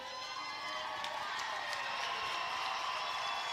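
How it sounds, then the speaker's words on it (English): Packed gymnasium crowd of fans at a junior high basketball state game, a steady, fairly faint wash of murmur and distant shouts with no clear speech. "You hear that crowd, a lot of Woodlawn fans in front of us, a lot of Citians fans in front of us."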